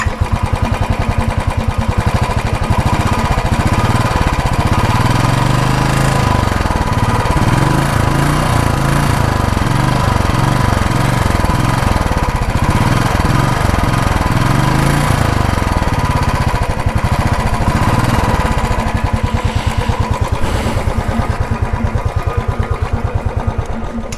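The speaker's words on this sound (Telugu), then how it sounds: "సో బైక్ ఎగ్జాస్ట్ నోయిస్ చూడండి" A 2020 Royal Enfield Classic 350 BS6 motorcycle idling, its single-cylinder exhaust thumping in a loud, steady low rhythm close by, with no talk over it.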